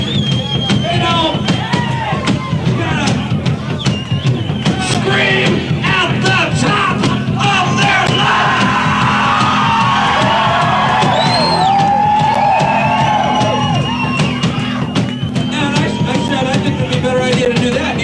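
A crowd in Champaign at a rock and roll rave screams, yells and whoops loudly and continuously, with shouting voices mixed into the roar.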